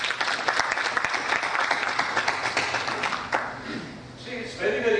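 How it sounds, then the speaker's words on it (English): Audience in a hall applauding for six participants, a burst of crisp clapping that is strongest at first, then thins and fades as a voice begins speaking near the end. "Let's give them a big round of applause."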